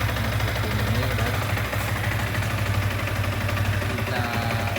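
A Yamaha R15 V3 motorcycle idles with its stock exhaust at night, a steady close, loud, throbbing engine note with a fast even pulse that holds without change throughout.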